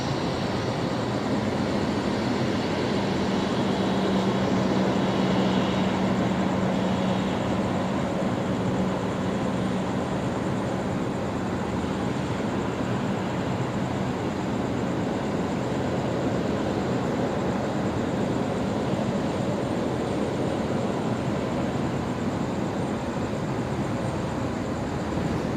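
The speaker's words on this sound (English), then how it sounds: "The A220 arriving from Melbourne." An Airbus A220 jet arriving from Melbourne at Brisbane Airport at night makes a steady broadband roar with a low engine drone, sustained and fairly loud throughout, no talk.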